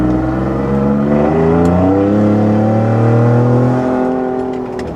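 A 2021 Ford F150 Raptor with a flash tune and its exhaust valve open accelerates hard while overtaking, a loud, close, steady engine roar rising in pitch through the gears.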